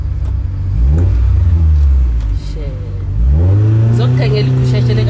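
A car engine revs hard twice, rising sweeps of pitch climbing with each throttle push, loud and close, with people talking over it.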